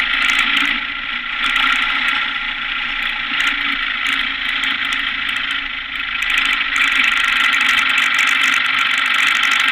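Single-engine ultralight aircraft running steadily at high power, a loud continuous engine drone and propeller roar close by as it takes off from a 1,320-foot grass runway.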